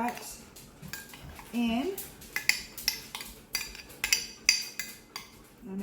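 Mashed pumpkin or sweet potato is scraped from a measuring cup into a mixing bowl for peanut butter dog treats, a series of close clinks and knocks of utensil on bowl with a brief spoken word.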